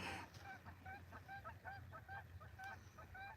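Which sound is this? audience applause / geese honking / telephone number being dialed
geese honking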